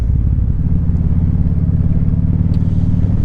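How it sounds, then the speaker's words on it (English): A 2016 Kawasaki Vulcan Vaquero motorcycle engine idles close by with a loud, steady, deep rumble and an even throb that holds throughout. "we're back on the 2016 Kawasaki Vulcan Vaquero"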